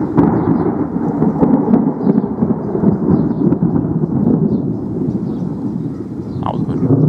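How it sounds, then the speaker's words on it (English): Thunder rumbles long and deep, rolling continuously for several seconds at moderate distance, with faint rain hiss underneath. "What about the thunder and lightning?"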